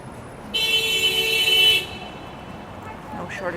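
A car horn sounds on busy Yonge Street in Toronto, a single steady toot of about a second amid Saturday night street noise and passing traffic.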